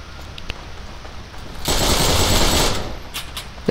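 Thompson submachine gun fired in the online shooter Heroes and Generals, a sustained burst of rapid automatic fire lasting roughly a second and a half, preceded by a couple of sharp isolated clicks or shots.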